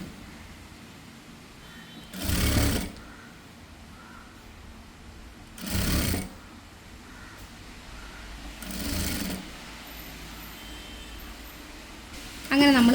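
A sewing machine folds and stitches a uniform skirt seam in short bursts, three loud whirring runs of about half a second each separated by quieter pauses, with another burst starting at the end.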